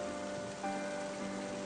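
Rain falls in Final Fantasy XIII, a soft, constant hiss of drops under a sustained musical tone, with no voices.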